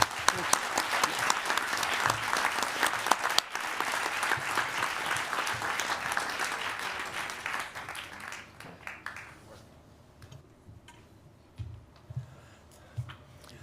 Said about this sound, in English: Please join me in giving the governor another round of applause for stopping by.